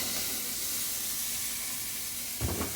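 Tomatoes sautéing in a pan for a mung bean dish give a loud, steady hiss of sizzling oil. A brief clatter of stirring comes near the end.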